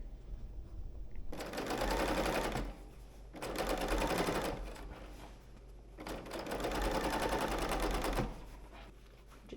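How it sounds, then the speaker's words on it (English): A serger stitches a 3/8 inch seam allowance on a men's shirt with snaps, running in three long continuous bursts, each several seconds of rapid whirring, separated by brief pauses. "I'm going to serge off to a 3/8 inch seam allowance on this"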